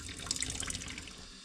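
Water runs steadily from a garage sink tap through attached tubing, a continuous close splashing rush that keeps going throughout.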